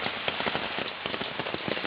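Rain falls on a garden on a rainy morning, a dense, even patter of drops on leaves and surfaces that continues without a break and sounds close.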